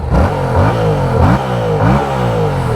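A 2017 Yamaha MT-07 motorcycle with its stock exhaust revs hard and close, the engine note rising and falling in several quick throttle blips.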